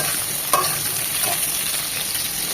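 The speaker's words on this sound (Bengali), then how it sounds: "পটলটা দিয়ে দিচ্ছি পটলটা আমি এভাবে কেটেছি পটলটাকেও এক মিনিট ভেজে নেব" Potato and pointed gourd frying in hot oil give a strong, even sizzle, with one sharp clatter of a spoon early on and soft stirring beneath the hiss.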